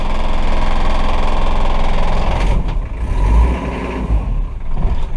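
Toyota Land Cruiser 3.4 liter 3B turbo diesel idling after starting with glow plugs, a loud, close, rough knocking rumble, steady and even, then wavering briefly with some thumps toward the end.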